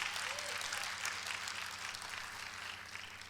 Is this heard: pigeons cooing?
no